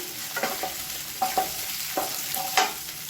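Green chillies sauté in hot oil in a home kitchen pan, giving a steady close sizzle broken by several sharp stirring scrapes and spatters, with no voices.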